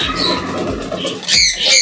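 Katta Mooku Homer pigeons in a Pondicherry loft give soft, close cooing and bird calls, a steady low murmur with brighter chirps toward the end, no talk over them.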